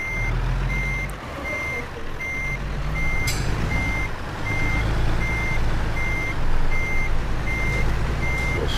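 A semi-truck with a trailer backs up in a driving simulator, its reversing alarm sounding a regular run of evenly spaced beeps over a loud, steady diesel engine rumble.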